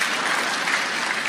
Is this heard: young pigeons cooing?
no